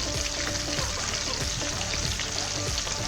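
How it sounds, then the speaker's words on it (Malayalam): Green mackerel wrapped in banana leaf fries in a pan over high flame, giving a steady, fairly loud sizzle with crackling pops and occasional faint stirring. "അതൊരു 1 മിനിറ്റ് കഴിഞ്ഞ് ലോ ഫ്ലെയിമിലിട്ടിട്ട് മൊത്തം 3 മിനിറ്റ് ഒന്ന് മൂടി വെച്ച് ഒന്ന് ഫ്രൈ ചെയ്യുവാണേ"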